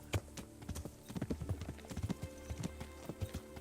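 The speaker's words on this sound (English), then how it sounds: "In the last episode, we actually finally got our horse." Rapid, steady horse hoofbeats in Kingdom Come: Deliverance clip-clop along at a trotting pace, close and fairly loud, with a low background hum and no talking.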